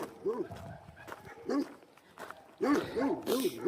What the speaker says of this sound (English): definitely have a lot of dogs here